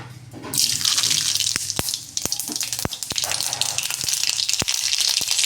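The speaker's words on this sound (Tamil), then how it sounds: "எண்ணெய் காயுது இந்த கடுகு போட்டுக்கலாம்" Mustard seeds hit hot oil and set off a sudden loud, steady sizzle, with sharp crackling pops scattered through the hiss, close by and with no voices.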